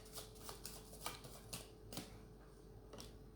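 Tarot cards are shuffled and drawn, a faint run of soft riffling flicks and snaps at an uneven pace against a quiet background hum, with no talk.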